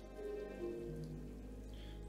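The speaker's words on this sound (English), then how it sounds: "But then the rain began to fall." Soft, continuous rain falls in the Ender Lilies video game, a faint hissing patter with low ambient drones and no voices.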